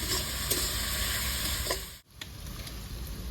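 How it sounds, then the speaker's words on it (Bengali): Garlic paste and spices fry with onion in a pan for a thin spicy meat curry, giving a close, steady sizzle with stirring scrapes and a brief dip midway. "মশলার খুব ভালো করে ভেজে নেবো পেঁয়াজের সঙ্গে যাতে গন্ধটা চলে যায়"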